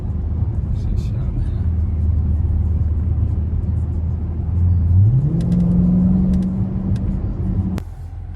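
A Dodge Challenger Scat Pack idles with a deep rumble, then pulls away with a rising engine note that climbs and holds, while people talk over it nearby.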